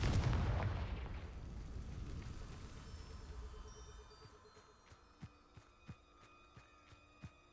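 Confringo blasting spell from Hogwarts Legacy: a big booming explosion that rumbles and fades over several seconds, followed by a few soft, evenly spaced clicks or pops.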